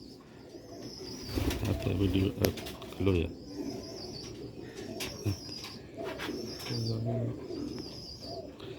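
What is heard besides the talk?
white tiger breed pigeons cooing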